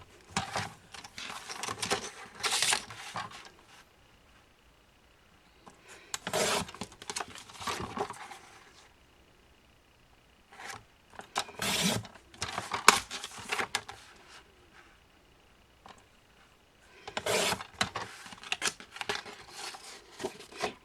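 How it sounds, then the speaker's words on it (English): Scissors snip through paper to cut out craft title labels with adhesive edges, in four separate bursts of close, crisp cutting and rustling separated by quiet pauses. "So I'm going to go ahead and cut them out."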